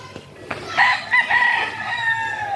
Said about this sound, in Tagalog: Ang daming manok ko.